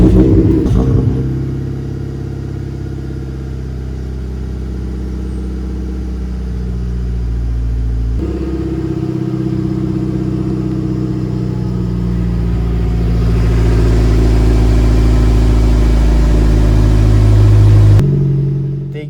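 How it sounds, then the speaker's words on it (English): A Mazda MX5 NC with a Piper rear silencer exhaust starts from cold in the morning, settling into a loud, steady idle with a rising fast-idle drone before cutting off. "Cold start first thing in the morning."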